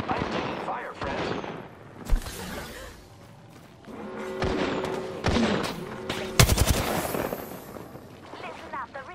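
Bursts of video game gunfire crackle in short volleys and single loud shots, with heavier impacts around the middle, set against game effects and voice callouts in between.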